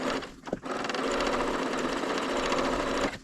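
A Bernina serger crocheting runs in a steady, fast mechanical whir with a rapid needle chatter, close and continuous after a brief start-up stutter, then cuts off at the end.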